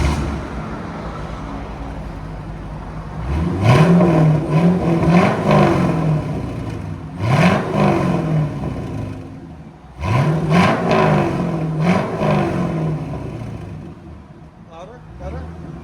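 A 1999 Chevy Corvette 5.7L V8 with an H-pipe delete and Borla ATAK exhaust, loud and close, idling roughly and then revving hard three times, each rise and fall followed by a settle back to idle.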